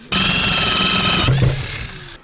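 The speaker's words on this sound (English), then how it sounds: "you're going to be drilling a hole here with the hole drill" A loud, steady high-pitched whine of a power drill with a hole saw cutting through material, shifting pitch partway through, then stopping abruptly.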